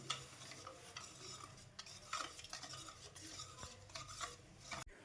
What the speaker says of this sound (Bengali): আবার আমি কিছুটা দুধ দিয়ে দিচ্ছি এখানে, দিয়ে আবার আস্তে আস্তে এটা গুলিয়ে নেব।